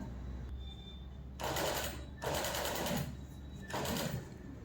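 A sewing machine stitches a katori blouse in three steady bursts of whirring, each lasting under a second, separated by short pauses over a low room hum.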